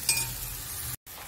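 Fenugreek leaves being stirred with gram flour in a pan, a brief soft scraping sizzle with a short silent gap near the end.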